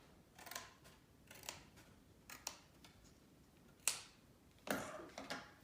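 Scissors cut into a plastic EOS lip balm container in a quiet room: several sharp, separate snips, some spaced out and a few in quick pairs near the end.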